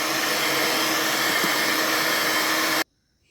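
An electric beater whirs steadily through cake batter with oil for a carrot-dates Christmas cake, a loud continuous motor hum that cuts off abruptly near the end, leaving near silence.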